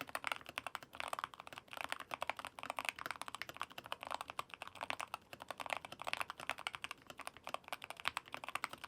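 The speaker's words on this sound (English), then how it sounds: "here's a little sound test of the Keychron K2 HE" Rapid, steady typing on a Keychron K2 HE magnetic-switch keyboard, dense clicks and clacks close up and continuous, alone without any talking.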